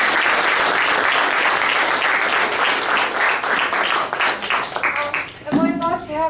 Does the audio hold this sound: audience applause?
yes